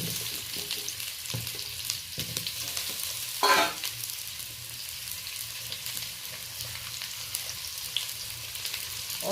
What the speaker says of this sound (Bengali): হালকা লবণ হলুদ দিয়ে আলুটা ভেজে নেব।